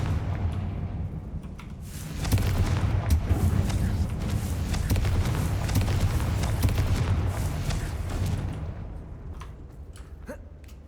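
Confringo blasting spell in Hogwarts Legacy, a loud sustained explosive roar and rumble that swells after a couple of seconds, holds steady and then fades, with sharper cracks near the end.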